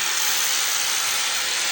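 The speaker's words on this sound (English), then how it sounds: "We'll just take this sanding wheel, we'll just flatten it down a little bit" A sanding wheel grinds down the tip of a steel bolt, a steady high-pitched abrasive hiss held evenly at close range, without speech.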